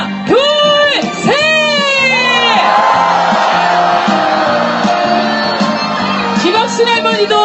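A large crowd at a street rally shouts and cheers loudly in a sustained roar, with whoops rising over the noise before it begins to fade.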